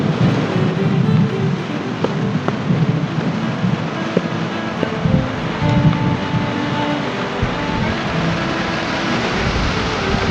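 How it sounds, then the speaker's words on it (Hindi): Waterfall pouring down beside a hidden mountain lake on a road trip from Glasgow to Moffat, a steady loud broadband rush of falling water filling the air without a break. "तो भाई ये वाटरफॉल इतना आ कहाँ से रहा है?"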